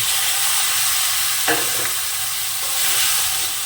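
A potato curry with chili and cumin is stir-fried, giving a dense, steady sizzle with a couple of soft stirring knocks, close and fairly loud with nobody speaking.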